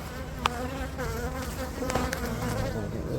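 Bees buzzing close by during a hive inspection in a steady droning hum, a few individual insects swooping past with brief louder passes.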